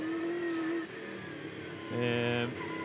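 A V8 Supercar engine heard from the in-car camera during a wet 2001 race at Sandown drones with a harmonic whine, then climbs and shifts pitch as it revs up, loud and continuous throughout.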